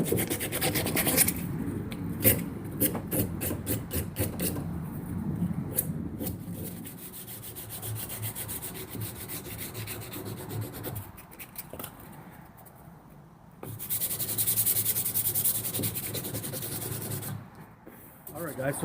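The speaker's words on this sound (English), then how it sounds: "I just tore off a strip of 120 sandpaper," A strip of 120-grit sandpaper rounds the corners of a knife handle on a knife made from a saw blade, heard as close, rapid back-and-forth rubbing strokes in bursts with short pauses.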